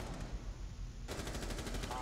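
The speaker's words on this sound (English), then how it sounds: "that shotgun does work" A shotgun fires in Rainbow Six Siege on a yacht map: a sharp burst halfway through, followed by rapid repeated reports over a low, rumbling game background.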